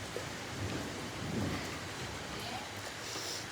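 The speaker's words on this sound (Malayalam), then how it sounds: "ഇവിടെ വെച്ച് കഴിഞ്ഞാൽ നല്ല മഴ നടന്നുകൊണ്ടിരിക്കുന്നു" Heavy rain pours outside during an evening at home, a dense, even hiss that holds steady throughout, moderately quiet as if heard from indoors, with no one speaking.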